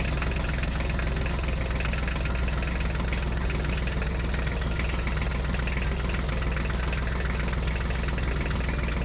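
Toy tractor running with a steady, buzzy engine-like drone and fine rapid rattle, constant in level and close, with no talking during it.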